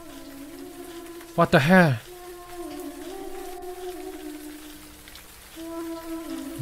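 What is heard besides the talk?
heavy rain in horror video game Siren Head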